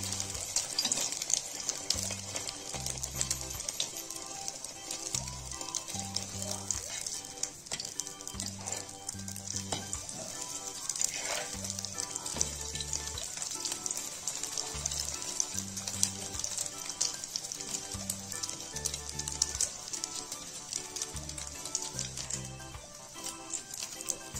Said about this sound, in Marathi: दोन्हीकडून चांगल्या प्रकारे फ्राय करून घ्यायचं आहे।